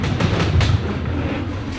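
Ghost Train ride cars at Blackpool Pleasure Beach rumble and clatter along the track, a loud, close, rolling rattle with a few heavier knocks.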